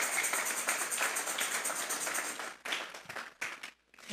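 A church congregation claps together in steady, dense applause for a few seconds, then the clapping thins into scattered, uneven claps that fade out near the end.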